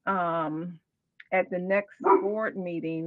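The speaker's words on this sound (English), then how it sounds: "excuse my dog" A dog barks in a run of several loud, close barks during an online school board work session, mixed in with a person talking.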